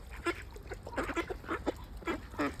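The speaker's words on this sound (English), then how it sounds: "chickens, ducks." Ducks and chickens in the Yorkshire countryside at Brompton-by-Sawdon call in a run of repeated nasal quacks and honks, several birds overlapping at moderate distance over a low outdoor rumble.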